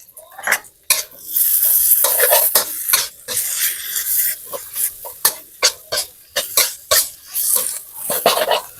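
Glass noodles with gochujang, kimchi and egg are stir-fried in a pan, giving loud continuous sizzling broken by rhythmic scraping and clanking strokes of a utensil against the pan.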